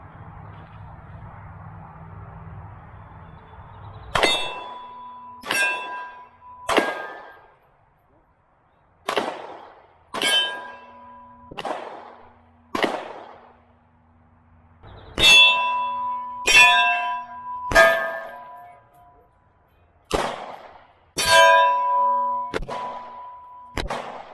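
Springfield XDS 9mm pistol fired at steel targets on a shooting range at about 20 yards, a series of sharp shots each followed by a ringing metallic clang, in clusters with pauses between.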